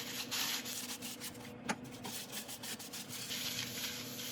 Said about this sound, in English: wipe off the excess dust with a bit of isopropyl.